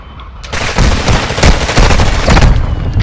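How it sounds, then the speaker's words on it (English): Sustained bursts of automatic gunfire and overlapping shots from a military video game, loud and close, forming a dense continuous barrage throughout with no talk. "Taking effective fire."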